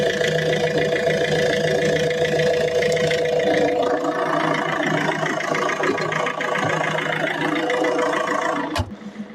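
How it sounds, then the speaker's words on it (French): A Citroën C4 Picasso 2.0 HDi diesel engine idling steadily and close by, a continuous even drone with a brief knock near the end. "C'est avec le doux bruit du diesel derrière moi qu'on va conclure cette vidéo."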